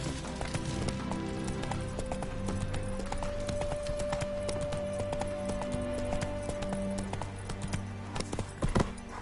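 In The Witcher 3: Wild Hunt, the hooves of the horse Roach clip-clop in a steady rhythm, paired with a faint whinny and soft background music.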